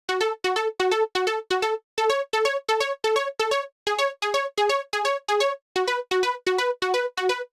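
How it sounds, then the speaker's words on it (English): A bright plucked progressive house synth arpeggio repeats a quick, bouncy note pattern in tight rhythmic groups, clean and alone. "I created an ARP for the drop for the ambience and its pattern sound like this."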